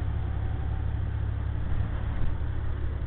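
A loaded semi truck carrying about 50,000 pounds, grossing around 77,000, pulls uphill at roughly 45 mph, its engine a steady heavy low drone with road rumble, continuous and close from inside the cab.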